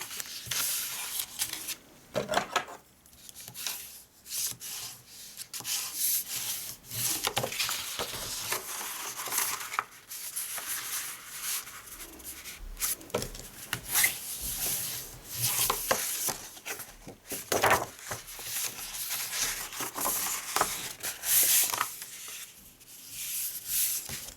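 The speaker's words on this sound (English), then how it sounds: "Now we're going to start folding and burnishing." Paper being folded and burnished by hand while making a large gift bag, with steady close rubbing and scraping strokes running throughout, loudness rising and falling with each pass, and no talking.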